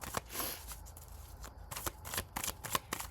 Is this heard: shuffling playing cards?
yes